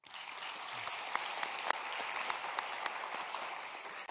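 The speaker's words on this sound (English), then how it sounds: "but deserves a round of applause." An audience at an educators' awards ceremony gives a round of applause: steady, moderately loud clapping from a seated crowd, even and continuous, with a few sharper individual claps standing out.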